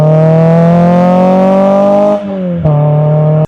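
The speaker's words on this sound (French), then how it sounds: "C'est un petit 2 litres 4 cylindres Atmo qui chante bien parce que les échappements ont été allègrement ouverts" A Renault Clio 2 RS with a naturally aspirated 2-litre four-cylinder and opened exhausts holds a loud, steady high-rev note, dips sharply as revs drop, then snaps back to a strong sustained drone. No one speaks.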